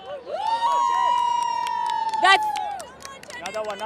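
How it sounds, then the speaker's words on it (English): Crowd at a cricket match in Chennai raising a loud, sustained cheer with high whistles and shrieks, swelling and then fading over a few seconds. "Let's hear a cheer."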